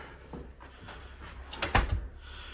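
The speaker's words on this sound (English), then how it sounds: "we walk out the door" A door at a small cabin in the woods opening onto the outdoors, a quiet rattle and then a firmer knock of the latch and frame, close and brief.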